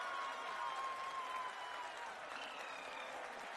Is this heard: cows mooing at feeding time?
no